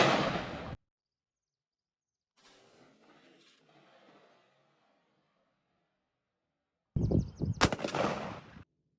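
A shotgun fitted with a striker choke fires one loud, sharp report while being patterned for turkey, followed by a faint mumbled voice and then a second burst of clatter and handling noise.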